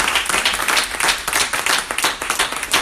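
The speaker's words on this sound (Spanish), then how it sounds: "Dan un aplauso a Cristo." A church congregation claps and applauds during a service, a dense burst of many hands close by in uneven rhythm for a few seconds.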